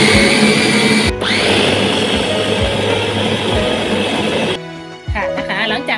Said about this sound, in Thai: หลังจากปิดฝาเสร็จปั่นเลยจ้ะทุกคน